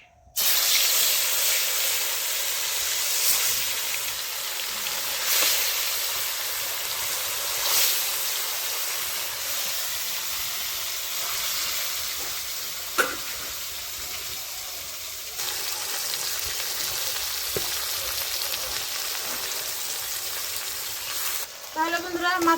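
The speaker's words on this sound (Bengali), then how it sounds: "এখন মাছগুলো ভেজে নেব।" Fish rubbed with salt and turmeric fries in mustard oil in a kadai, a loud, close, steady sizzle and hiss with occasional stirring clicks and scrapes.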